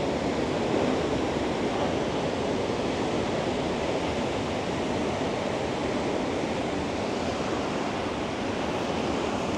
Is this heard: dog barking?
no